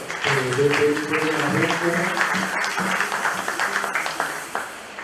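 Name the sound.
congregation applauding in church service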